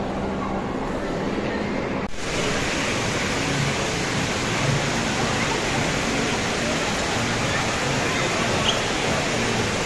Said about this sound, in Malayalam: വീട്ടിലൊരു വാട്ടർഫാൾ.